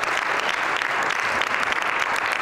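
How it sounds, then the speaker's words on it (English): Audience clapping steadily at a political speech in Tulsa, Oklahoma, a dense, even wash of applause from a crowd with no voices breaking through. "Last, you can clap."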